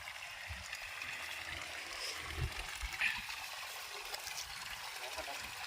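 Water falling and trickling into a small pool in a Kuttanad village field, a soft continuous gurgle with a few small splashes, faint and steady, heard without talk.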